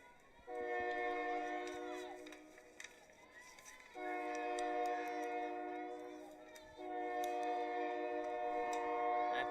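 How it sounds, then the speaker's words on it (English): A train passes near a softball field, its horn sounding in long sustained chords that stop and return three times, fairly loud over a low rumble of rail noise. "Apologies for the train, folks"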